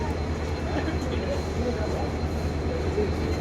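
A train standing at Alipurduar Junction railway station gives off a steady low rumble and broadband mechanical noise, close by and continuous throughout.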